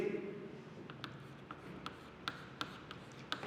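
Chalk or marker strokes on a board during a chemistry lesson, a series of short, sharp taps and scratches at irregular intervals, fairly quiet against a soft room background.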